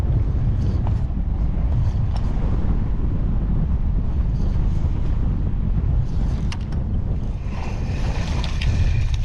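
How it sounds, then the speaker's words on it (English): Wind buffets across a kayak out on open water, making a constant low rumbling roar with faint water sloshing and a few light knocks, and no talking. "It's very windy."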